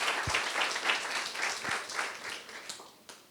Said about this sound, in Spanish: Si tú lo crees, dale un aplauso al Señor.